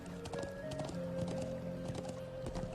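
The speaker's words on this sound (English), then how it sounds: "Eustace is enjoying himself just riding the horses through this magnificent, beautiful highland country" Horse hooves clip-clop steadily and fairly close as a horse is ridden through highland country in Trails of Cold Steel, under a soft game music drone.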